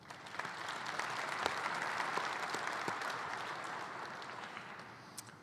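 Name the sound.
applause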